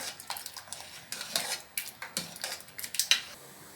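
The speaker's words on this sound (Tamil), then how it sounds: "இதை கரண்டி வச்சு லைட்டாக மசிச்சுக்கிறேன்." Repeated soft metallic scrapes and taps of a ladle lightly mashing cooked bottle gourd in a pot, irregular strokes at close range with no talking.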